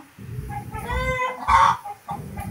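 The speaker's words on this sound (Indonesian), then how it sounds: "itu ayam cuman diusir" A chicken clucking close by, several loud squawking clucks in quick bursts with brief pauses, no speech.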